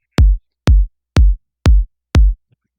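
Five punchy kick drum hits land evenly on the downbeat in a steady four-to-the-floor house or techno pattern, each a deep, short thump with a sharp click, played alone and loud.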